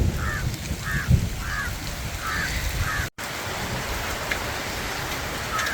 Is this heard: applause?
no